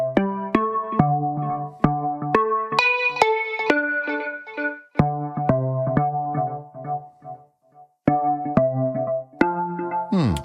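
Electric piano run through a Prism MIDI harmonizer plays bright stacked chords in a steady melodic sequence, each struck note layered into rich harmonies, ringing clearly on its own with a short pause before the final phrase.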